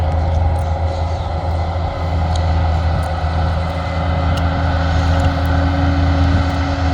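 A heavy tractor engine drones loudly and continuously at close range while sowing amaranth with a 6-metre seed drill, a steady mechanical roar with no break.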